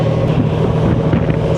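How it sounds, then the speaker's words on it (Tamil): Boat engine near the Nainativu island jetty in Jaffna, a steady loud motor drone with wind buffeting the microphone throughout, no voices. "ஒரு போட் வருது"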